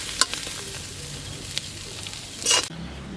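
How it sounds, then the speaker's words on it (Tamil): Brinjal kara kulambu masala ingredients sautéing in oil in a pan, with a soft steady sizzle, occasional stirring scrapes and a brief louder burst of frying near the end. "பச்சை வாசனை போக நல்லா வதக்கிடலாம்."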